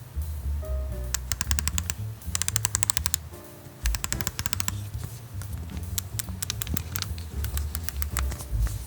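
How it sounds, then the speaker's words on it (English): An EMALLA Grand wireless tattoo machine clicks as its throw and needle are adjusted, with rapid ratcheting bursts of crisp, close clicks over a low steady hum. "when adjusting the throw and when adjusting the needle, you get a very noticeable click."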